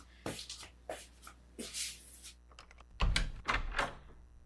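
A door being opened in a radio drama: a series of close rattles, scrapes and knocks of the handle and latch, then a heavier thump and shuffling as it swings open, with no talking.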